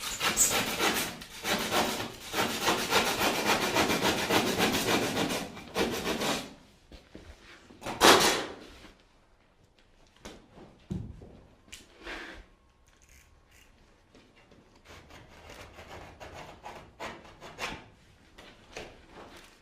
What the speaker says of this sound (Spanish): primero le pasamos el serrucho en un lado y luego le podemos pasar el cúter abajo